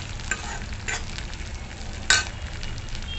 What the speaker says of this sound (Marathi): आता आपण थोडंसं हिंग टाकू थोडी छान खमंग करून घ्यायची